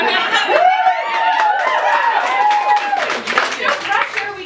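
Audience clapping at a Halloween-themed literary salon performance, a steady patter of hands under a voice speaking over it, with scattered chuckles around.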